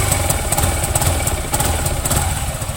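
A 2019 Yamaha XMAX 300 scooter engine revs loudly and steadily up close with traction control switched on, the note holding a dense mechanical drone with faint rhythmic pulsing as the system cuts engine speed.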